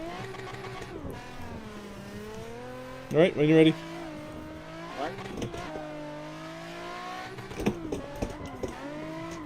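A Nissan 350Z drift car's engine hums and revs steadily at a tandem drifting event, with a brief sharp burst partway through, heard under people talking.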